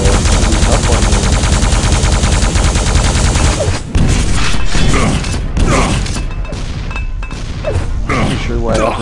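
Gunfire rattles through a Quake duel as weapons fire in rapid, overlapping bursts. The shots are loud and close, with sharp impacts and mechanical clanks, and they continue for several seconds with brief pauses.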